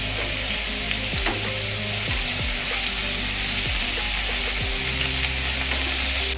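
Chicken shashlik fries in a pan with a loud, steady sizzle, broken by several sharp spatula knocks and scrapes as the pieces are stirred; a voice briefly says a word.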